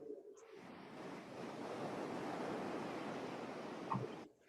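Ocean surf rolls steadily onto a beach, a broad continuous wash that swells and holds for several seconds before fading, with faint wind and a brief bird call in the background.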